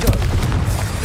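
A Confringo explosive spell cast in the Hogwarts Legacy video game lands with a loud, deep boom at the start, then a brief rumbling tail amid steady game noise.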